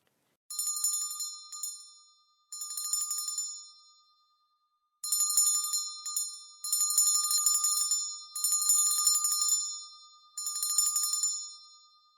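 A bright bell rings in clustered bursts separated by short pauses, clear and alone with no voices.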